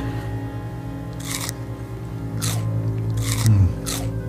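Soft crunchy bites and chewing of a crunchy peanut butter sandwich come in a few short bursts close to the mic, with a low hum underneath.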